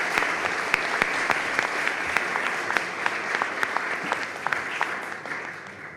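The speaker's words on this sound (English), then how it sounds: "Another round of applause now that everyone is back on stage" Steady applause from a crowd at a University of Maastricht talk as speakers return to the stage, dense clapping that holds evenly throughout with scattered louder claps.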